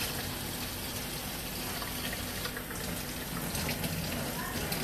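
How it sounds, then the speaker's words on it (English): Rice being washed under running tap water, a steady broadband gush of water filling continuously at close range with no break. "So I'm going to go ahead and give it a good washing. I hope you guys can hear me over the water."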